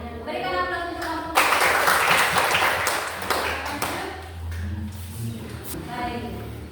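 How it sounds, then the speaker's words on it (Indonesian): Classroom audience clapping for a presentation group, a short swell of applause rising over a speaking voice and then fading back beneath continued talk. "Berikan aplaus untuk kelompok"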